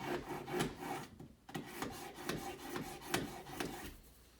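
Pocket knife drawn across a knife sharpener, a series of short quiet rasping strokes in an irregular rhythm, heard close up.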